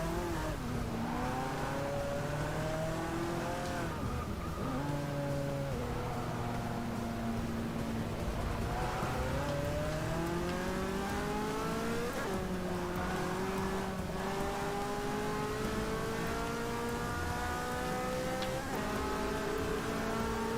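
Race car engine in Forza Motorsport 6 at the Catalunya circuit, revving steadily with rising and falling pitch through gear changes, continuous and close throughout without any talk.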